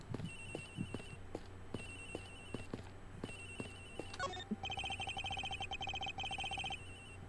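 A cell phone rings in the Ace Attorney Investigations video game, a repeating electronic trill in even pulses over low rhythmic thumps, then a louder, busier ringtone pattern takes over partway through.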